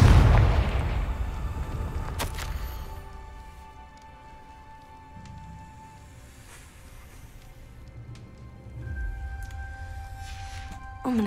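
A Confringo blasting spell from the game Hogwarts Legacy bursts with a loud boom at the start, then its rumble fades into a quieter game ambience with a later low thump.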